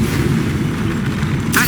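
Confringo spell blast in Hogwarts Legacy, a loud, sustained rumbling boom filling the whole moment, ending in a bright crackling burst of magic near the end.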